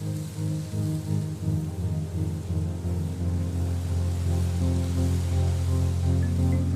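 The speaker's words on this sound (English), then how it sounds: "The Muse app translates brain waves into weather sounds." A low, steady rumble like distant thunder rolls under a wash of rain-like noise from a meditation app's stormy weather sounds, continuous and fairly loud.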